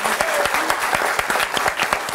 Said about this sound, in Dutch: Nou, jongens, applaus.